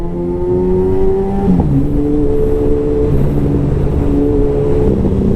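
A Suzuki Hayabusa motorcycle engine hums loudly while riding, its smooth tones rising and shifting between gears over heavy wind rush, continuous and close.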